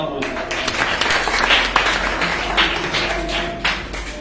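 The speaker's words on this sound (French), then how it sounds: "Et ça s'acclame aussi." Congregation applauding during a Sunday worship service at a church in Abobo, a steady wash of many hands clapping throughout with a few sharper slaps, moderately loud and close, no clear talk over it.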